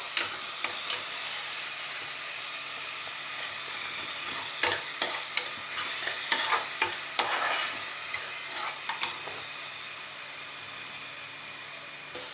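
A thick onion and tomato base for chicken gravy bubbles and sizzles in a pan while being stirred, a continuous hiss broken by scattered scrapes and clicks of the spoon, close and without talking.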